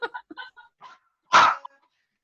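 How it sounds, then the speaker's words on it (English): A dog barks at someone at the door: one loud, close bark follows a few brief, soft vocal sounds, then quiet. "Oh, is that your dog?"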